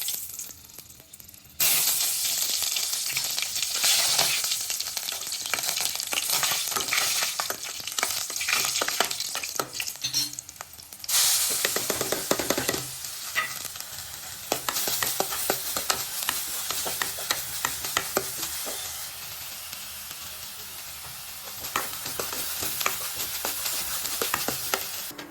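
A tadka of chopped onion with ginger-garlic paste sizzles loudly in hot oil for a home-cooked kadhi. The frying hiss is close and continuous, with stirring scrapes, a brief drop in the middle before the sizzle surges back, and nobody speaking.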